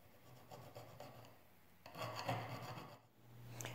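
Copper wire set into a wooden knife is sanded by hand, giving soft, quiet rasping strokes in short bursts with brief pauses between them.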